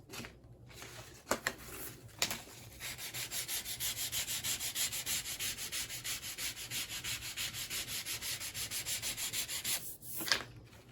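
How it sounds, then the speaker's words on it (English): Sandpaper rubs steadily across a repaired ski base after rock damage, a close, rhythmic scraping that runs continuously for several seconds with a few sharper strokes at the start and end. "I'm gonna hit it real quick with the sandpaper."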